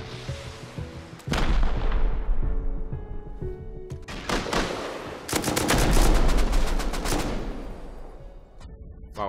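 Gunfire during a raid in Rust, with sharp single shots and dense rapid bursts crackling loud and close, interspersed with brief lulls and low rumbling impacts.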